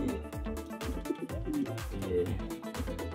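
Soft, repeated coos from a native desi pigeon in a steady rolling rhythm, fairly close, with faint background chatter, in Gilgit-Baltistan.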